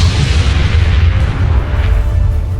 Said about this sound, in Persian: انفجار!